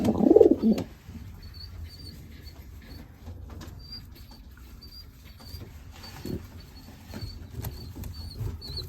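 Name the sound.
young racing pigeons cooing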